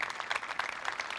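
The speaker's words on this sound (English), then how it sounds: "give each other a round of applause there." Short burst of audience clapping at a coaching conference, a faint, distant patter of hands heard briefly in a room.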